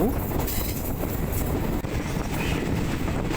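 Passenger train no. 85 from Bangkok to Nakhon Si Thammarat leaving Thung Song Junction, heard from on board as a steady, close rumble of wheels and carriage noise with some wind buffeting.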